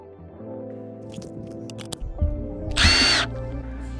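A power tool whirs and bites briefly while a copper auction find is being taken apart, with clanks and a short loud grinding burst near the end over a steady background hum.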